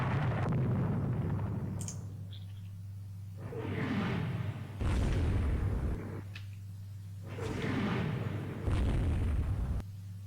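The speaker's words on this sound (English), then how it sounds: "Ranger hit by torpedo. Hit by lots of torpedoes." Torpedo hits on an aircraft carrier in the naval strategy game Rule the Waves 2, heard as a few deep booming explosions that swell and fade over a low steady rumble, with faint clicks in between.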